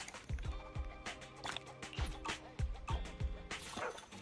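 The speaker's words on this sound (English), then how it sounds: "yes, this is a dog named Howl" A dog in the video game Zenless Zone Zero gives a run of short, close barks and yips at an uneven pace, several of them in quick bursts, with game music behind them.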